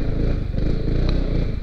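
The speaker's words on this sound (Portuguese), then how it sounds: "Ó, que forte. Que moto forte." Modified Yamaha XMAX scooter engine running loud and close, a steady low rumble with continuous harmonics and a slight rise in pitch partway through, heard alone.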